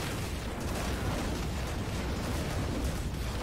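Constant roar of overlapping explosions from the video game Zombie Killing Simulator, a dense, loud rumble with no breaks over the whole stretch.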